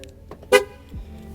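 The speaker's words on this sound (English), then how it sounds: "gonna lock the truck" A truck horn gives one short chirp as the vehicle is locked in a park lot, a single clipped toot over quiet surroundings.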